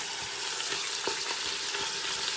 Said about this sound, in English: you want to leave the ground beef in place while it gets some caramelization on it